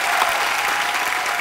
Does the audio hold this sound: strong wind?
no